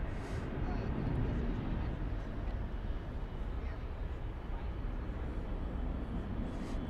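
An airplane departing DFW Airport, a steady broad roar that holds loud and even throughout, heard from a distance without a clear rise or fade.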